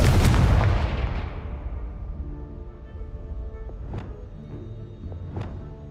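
A Confringo blasting spell explodes in the Hogwarts Legacy video game: one loud boom that rolls off slowly, followed by a couple of sharper, fainter cracks a few seconds later.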